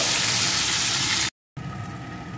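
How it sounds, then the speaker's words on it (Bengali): Chopped onion fries in hot oil with garlic for a dahi pomfret fish curry. A loud, close, steady sizzle gives way to a brief silent cut, then a softer continuing hiss. "পেঁয়াজটাও একটু ভেজে নিয়েছি।"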